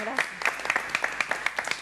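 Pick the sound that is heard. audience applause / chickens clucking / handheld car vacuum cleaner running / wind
audience applause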